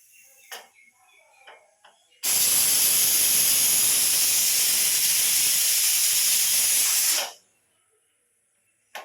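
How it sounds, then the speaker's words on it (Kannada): A pressure cooker on a home stove lets off its whistle while rice is cooking for puliyogare. A single loud, sustained hiss of steam lasts about five seconds, then cuts off, with faint kitchen sounds before it. "waiting for whistle"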